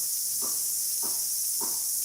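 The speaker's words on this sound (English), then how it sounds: "we can enjoy the cicada sound and breathe a bit" Cicadas buzz steadily with a dense, high-pitched hiss, and three faint thumps from banging next door cut in at even intervals.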